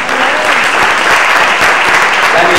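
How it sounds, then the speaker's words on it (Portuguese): Church congregation applauding during a thanksgiving service, a dense and loud burst of clapping from many people that holds steady throughout. "Joyce, por cura de Deus, você pode aplaudir ao Senhor"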